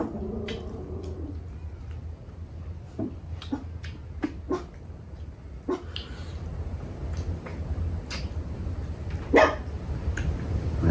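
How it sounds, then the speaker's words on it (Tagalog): A household dog barks in short, sharp, scattered bursts at moderate distance over a steady low background hum, with no one speaking. "Ang aso namin."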